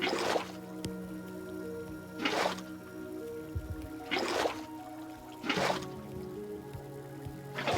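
Water being cleared out of a sandcastle dig, with wet squishing scoops and dripping that come back at steady intervals about every second and a half, close and moderately loud.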